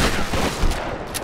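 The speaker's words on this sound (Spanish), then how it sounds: "desbloqueamos esta puerta con un tiro, con la escopeta" A shotgun blast in the Tomb Raider video game, fired to unlock a door, heard as a loud dense burst of gunfire with rattling echoes that fill the whole short clip.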